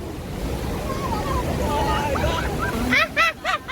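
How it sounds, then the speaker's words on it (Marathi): Waterfalls pour down a hillside at Solanpada dam in Karjat, Raigad, making a steady, broad, rushing roar of water throughout. Voices of people talking join in near the end. "बघा पूर्ण डोंगरावर धबधबे"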